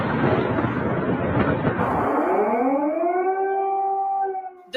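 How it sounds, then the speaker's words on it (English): An air raid siren wails over Kyiv at dawn. A loud noisy rush gives way to a rising, sustained siren tone that holds steady to the end, with no voices. "people woke up to the sounds of sirens."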